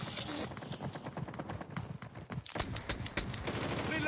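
Rapid bursts of automatic gunfire in the mobile shooter game Call of Duty Mobile, dense and continuous, with a brief lull before a sharper volley of shots resumes.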